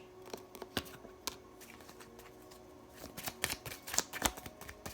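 Tarot cards are shuffled close by in quick, irregular riffling bursts and flicks, quiet overall with a busier flurry toward the end, no talk.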